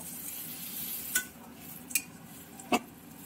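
Hilsa fish fries in oil while being stirred: three sharp metallic clinks and scrapes of a utensil against the pan stand out over a low, constant background sizzle.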